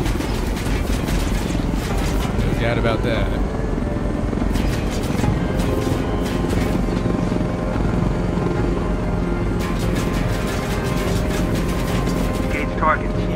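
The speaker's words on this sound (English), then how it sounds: "Have another chopper." A helicopter in the Ghost Recon Wildlands video game drones steadily throughout with a continuous rotor rumble and whine, loud and constant, while someone speaks briefly over it.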